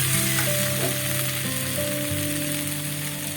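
Curry frying in a pan gives a steady, close sizzle with some stirring, and a few faint tonal sounds run underneath.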